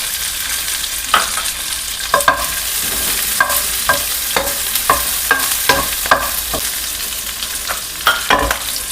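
Chopped onion stir-fried in a pan over a high gas flame for chilli chicken, a steady loud sizzle broken by repeated sharp scraping strokes of the spatula, no talking.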